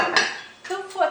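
A lid set over a pan of cooking eggs gives a quick metallic clink and clatter, two or three short close knocks within a second.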